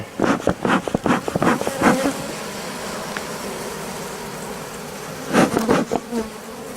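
Honey bees buzz loudly and close at an opened hive during inspection, a busy swarm drone with sharper bursts of louder buzzing at the start and again near the end.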